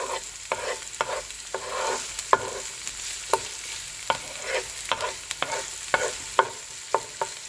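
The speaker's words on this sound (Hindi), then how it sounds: "प्याज थोड़ी सी सॉफ्ट होने तक इसको हिलाएंगे, जब तक कि प्याज थोड़ी सी सॉफ्ट नहीं हो जाती।" Finely chopped onion fries in a pan while a spatula stirs it, producing a steady sizzle punctuated by a regular series of crisp scraping strokes, close up with no voices.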